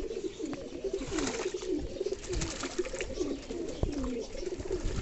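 King pigeons coo around a small bathing pool on a sunny day, repeated soft rolling coos from several birds overlapping at moderate distance, with faint splashing and background noise.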